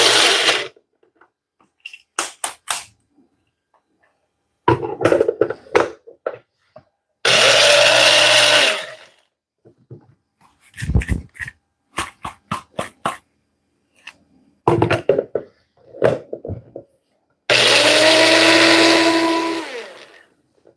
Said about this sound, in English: I may have used the wrong blender.